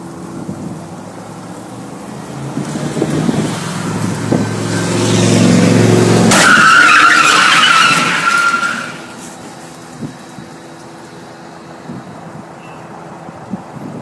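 Stunt cars on a film set rush toward a staged crash, a rising roar of tires and engines swelling over a few seconds then cutting off, followed by quieter ambient rumble.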